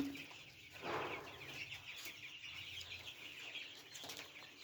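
A flock of 19-day-old chicks cheeps and chirps steadily and densely throughout, close by, with occasional wing flutters and no talk.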